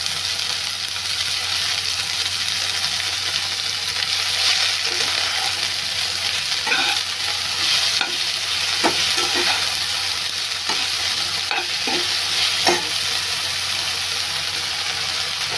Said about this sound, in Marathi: ही बघा, ही भाजी आता मी त्याच्यामध्ये टाकली. भाजी व्यवस्थित परतून घ्या.